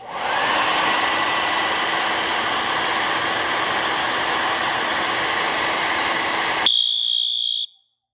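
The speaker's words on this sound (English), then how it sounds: "I'm going to go ahead and use a hair dryer" A hair dryer roars steadily and loudly for several seconds while heating a heat detector, then cuts off, leaving a brief high-pitched electronic alarm tone from the detector before silence.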